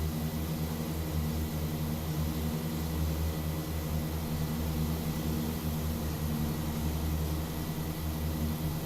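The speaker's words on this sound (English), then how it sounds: "We're revving quite high because I'm kind of climbing, so we want to bring that down a bit." Engines of a Tecnam P2006T twin-prop aircraft in the X-Plane 12 flight simulator hum continuously at high revs during a climb, a steady droning tone with no talk.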